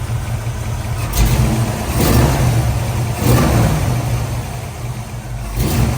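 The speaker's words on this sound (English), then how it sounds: "but listen to the engine." A 1969 Chevrolet Camaro RS/SS convertible engine running shortly after a cold start, a steady loud idle with low rumble and a few gentle surges in revs, heard up close with no voices.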